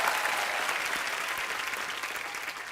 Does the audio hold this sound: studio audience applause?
yes